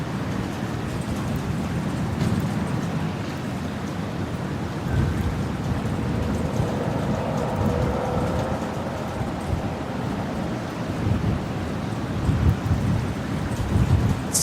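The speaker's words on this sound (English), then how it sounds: "Yeah, no, I'm definitely getting rain." Steady rain with low thunder rumbling at Brisbane Airport during a storm, a continuous broad wash of rainfall and distant rolling rumbles.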